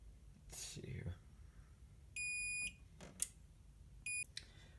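Two short shrill electronic chirps come from an activated smoke detector on a fire alarm system, separated by a couple of seconds, amid soft room noise and faint murmured talk.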